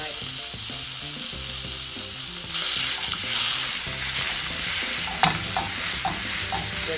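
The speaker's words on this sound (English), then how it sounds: "we're just gonna put our ground beef into that same skillet" Ground beef sizzles and crackles steadily in a skillet over a fire, cooked without power during a hurricane, with music-like tonal layers underneath and a louder burst of frying partway through as the meat is stirred.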